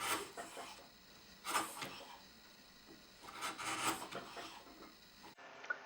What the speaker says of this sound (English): I just use a very sharp chisel to come across this maple